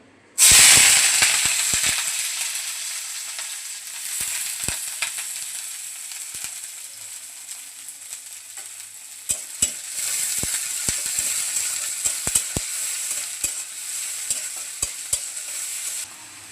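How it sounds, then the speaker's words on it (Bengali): Onion, garlic and green chilli fry in oil in a wok with a loud, continuous sizzle. Sharp scrapes and clicks of stirring break through it, and nobody speaks. "পেঁয়াজ, রসুন, কাঁচা লঙ্কা ভাজা হয়ে গেছে"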